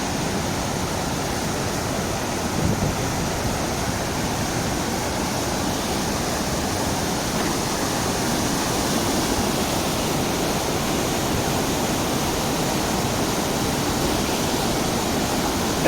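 Glacier-fed water rushes steadily through the Valley of Flowers at roughly 11,000 feet, a loud, dense and unbroken roar that stays constant throughout with no voices.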